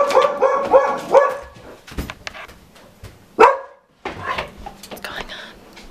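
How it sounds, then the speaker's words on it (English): Several dogs bark indoors at home, a loud run of close, repeated barks and yips that trail off, then a lone bark and some whimpering. "why do the dogs start barking right when I start vlogging?"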